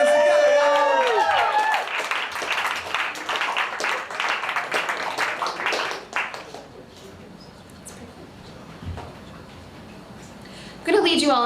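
An audience at a poetry slam applauding a poet: a burst of hand clapping that swells, then thins out and fades to quiet, following a brief announcer voice at the start.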